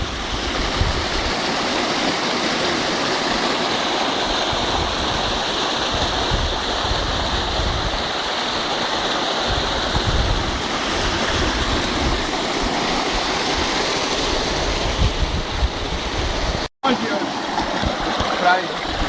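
Water rushes and churns steadily through a natural rock basin shaped by the current at Chapada Imperial, a loud, continuous roar with splashing, nearly uninterrupted for the whole stretch.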